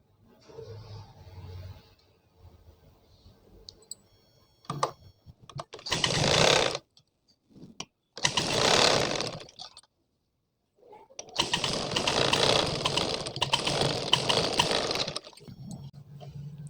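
Electric sewing machine stitching a folded strip on a blouse sleeve, running in three bursts that are short, medium and then longer, with quiet pauses between them and no talk.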